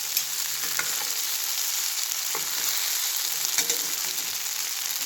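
A vegetable bhaji sautés in a pan with a steady, close sizzle that runs throughout. Faint scraping stirs sound now and then, and no one speaks.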